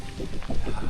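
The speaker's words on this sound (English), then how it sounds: "It's just a little bit of rain." Light rain patters in a forest in Germany during a bikepacking trip, a soft, continuous hiss with scattered drops over a brief moment.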